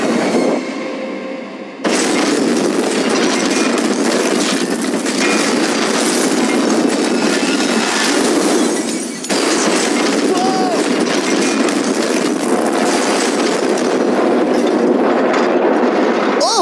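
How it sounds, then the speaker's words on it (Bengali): A train in a video game rushes along the tracks, a loud, dense, steady roar that starts abruptly after a quieter opening and continues with only a short dip. "ভাই ট্রেন খুব জোরে যাচ্ছে।"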